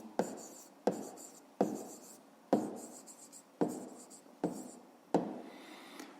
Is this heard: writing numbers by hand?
yes